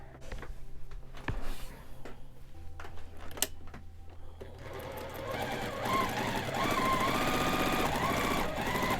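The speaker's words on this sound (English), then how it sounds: "sit down at the sewing machine and start sewing" A sewing machine stitching fabric for a quilt block starts with a few clicks and taps, then runs steadily in a continuous whirring hum that grows louder and fuller for the last few seconds.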